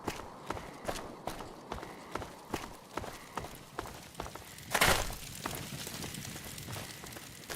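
Footsteps on a ramp in Fallout: New Vegas thud in a steady walking rhythm, with one louder crash-like burst midway and faint ambient noise underneath.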